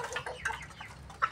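Chickens cluck softly and briefly while pecking at feed, a few faint close clucks.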